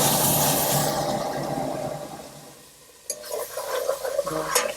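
Garlic cooking in a generous pour of perilla oil for a butterbur stem soybean soup, a steady soft sizzle and stirring scrape that fades, then returns with light clinks and scraping.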